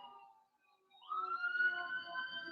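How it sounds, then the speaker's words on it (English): A fire truck siren wails outside during a hurricane, starting faint and distant, then swelling into a clear rising tone that stays fairly quiet, with no talk. "Oh, it's a fire truck"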